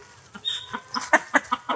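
Native desi chickens on a poultry farm in Satkhira give a short run of clucks, about five rhythmic close calls in under two seconds, with a brief higher squawk early on.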